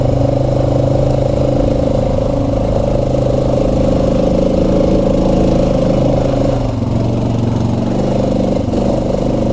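A Honda Rancher 420 ATV engine drones loudly and steadily on a trail ride, a close, even mid-pitched hum with slight shifts in load and no pauses.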